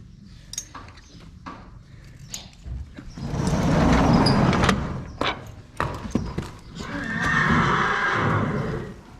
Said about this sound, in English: So let's go get the horse.